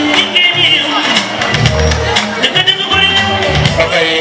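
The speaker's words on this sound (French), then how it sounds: "Sur vos applaudissements encore." Applause and cheering from the audience at a school cultural day: continuous clapping with a few shouts and whoops over it, and music running underneath.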